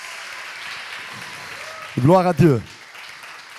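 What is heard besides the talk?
church congregation applauding newcomers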